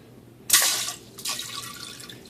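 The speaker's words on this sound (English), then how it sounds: "that was water that was like trapped in there" A metal cloth diaper sprayer sends out a sudden hissing spurt of trapped water, which tapers off. A second, weaker spray follows a moment later, then both fade into quiet dripping.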